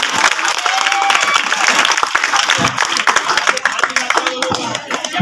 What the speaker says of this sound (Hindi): ताली बजाकर अभिनंदन करें